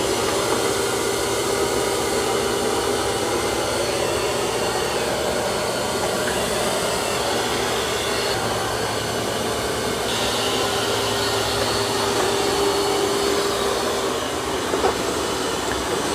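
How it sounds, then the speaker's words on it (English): X40 robot vacuum cleaner vacuuming carpet, a steady, loud broadband whoosh of suction and motor noise that holds unbroken and alone throughout. "It's doing a good job on that carpet."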